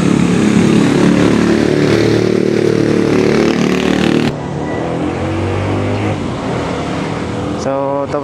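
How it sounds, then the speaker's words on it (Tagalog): Several parked motorcycles revving loudly near a beach resort in Ternate, Cavite, a steady engine roar that drops in level partway through, with people talking faintly underneath. "So ito yung mga motor namin guys."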